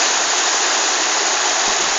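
River water rushes steadily in Laguna as people take a dip, a dense, continuous broadband wash close by with no pauses, no talk rising above it.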